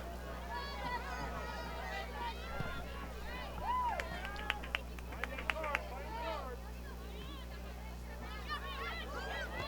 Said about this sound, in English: Their fans still cheering that they didn't get the result.